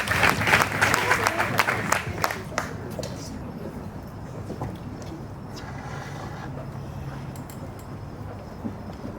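An audience at a PechaKucha evening in St. Augustine applauds to welcome a speaker on bocce. Dense clapping is loud at first, then thins and fades over several seconds.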